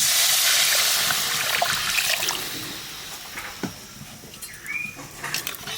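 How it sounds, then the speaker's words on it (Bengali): Water is poured into a pan of frying spices for a red katla fish curry, producing a hissing sizzle that fades into softer bubbling and splashing with a few sharp clicks, close up and with no talk. "এবার জল দিয়ে দেবো।"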